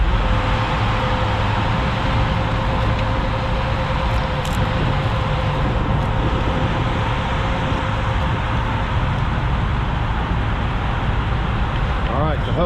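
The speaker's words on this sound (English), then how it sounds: "Gonna give the rear tires a spin." A truck's rear tires spin on a soft surface in a garage-build setting. A dense, continuous roar of engine and tire noise stays loud and steady throughout, with people talking over it.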